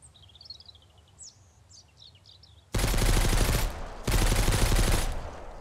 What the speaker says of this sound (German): schieß weiter auf die Hütte